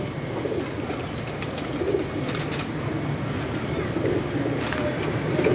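Pigeons coo steadily from a loft where pairs are being set up, a dense, continuous murmur of soft coos from several birds close by, with no talk over it.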